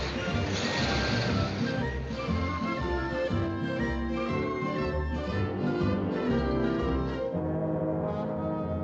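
Cartoon crash from the 1955 Freleng short Red Riding Hoodwinked as a character smashes into a pole, a loud opening smash followed by a long stretch of clattering, booming sound effects and music.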